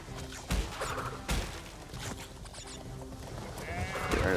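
A goat bleats in the video game Crash Bandicoot 3, a wavering cry set over busy game music with a couple of sharp thuds and impacts.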